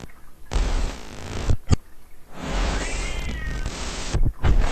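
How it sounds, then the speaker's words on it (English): A pet cat meows in short, broad bursts, with a brief louder cry near the middle, all close to the microphone and without talk. "Oh, come on, kitty."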